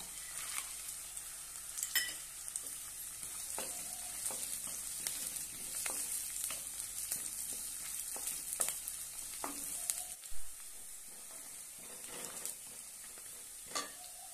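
Peanuts frying and crackling in hot oil, a steady close sizzle broken by sharp pops and occasional stirring scrapes, fading briefly near the end before one last crackle.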